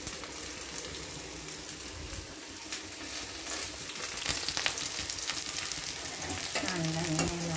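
Chopped onion, green chilli and curry leaves crackle and sizzle in hot oil for a crab curry, a dense, lively frying hiss with scattered pops and stirring scrapes, close and continuous.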